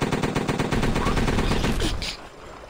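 Rapid automatic gunfire rattles in a tight, steady burst during XCOM 2 combat, loud and close for about two seconds before cutting off abruptly, followed by a softer tail of impacts.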